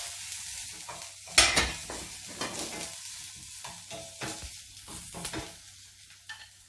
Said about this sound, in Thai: ทอดกุ้งแห้งของเราให้กรอบนะคะ ตามด้วยกระเทียมสับ